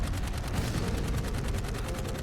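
Rapid, sustained machine gun fire from a jetpack in the video game Dark Void, loud and dense with evenly spaced shots that never let up across the whole stretch.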